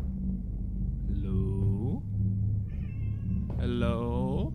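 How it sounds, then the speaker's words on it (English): A cat in the horror game Home Sweet Home gives two drawn-out, wavering meows, loud and close, over a low rumbling backdrop. "My cat is meowing."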